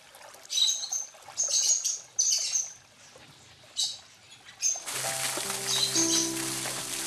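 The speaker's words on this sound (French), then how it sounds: "cela attire les oiseaux, et leur présence rend le jardin vivant et plein de musique" Birds sing in an Italian garden, bright chirps repeating in short bursts at moderate distance, then joined by a steady trickle of water and soft sustained musical tones.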